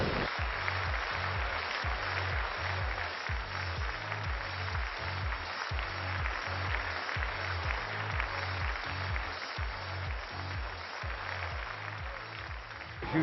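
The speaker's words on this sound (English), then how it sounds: "a round of applause for them." Audience applause for a group of women artisans from Kashmir: a steady, faint wash of many hands clapping that holds for several seconds, with a soft regular low thumping running underneath.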